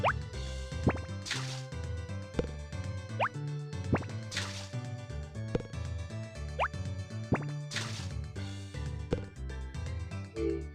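Boiling food in the video game Harvest Moon: Back to Nature, heard as repeated bubbling plops and drips looping rhythmically over a busy music bed throughout.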